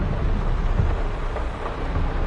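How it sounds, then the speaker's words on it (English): Rain and thunder in the farming game Farming Simulator 22, a dense steady wash of rainfall with low rumbling underneath, continuous and fairly loud with no speech. "while it's raining"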